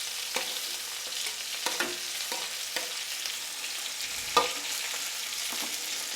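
Chopped cauliflower and beans hitting hot oil in a pan: a loud, continuous sizzle with several stirring scrapes and one sharper clank of the utensil, close up and without voices.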